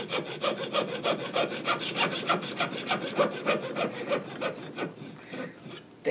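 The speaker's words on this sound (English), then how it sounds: "I'm gonna just use a regular old handsaw to trim this back." A regular handsaw trims a guitar nut clamped in a nut vise, producing quick, even back-and-forth rasping strokes, about four per second, close and moderately loud, slowing near the end.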